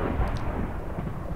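Minecraft thunder triggered by the weather command rumbles as a loud, dense, continuous roll of low noise, filling the whole short stretch without any speech.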